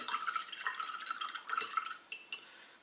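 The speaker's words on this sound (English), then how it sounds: "I'll put some water on the Warstone Glow." Water dripped and dabbed onto Warstone Glow paint on a wet palette, a quiet run of small wet taps and drips close by, faint and irregular, with no talk.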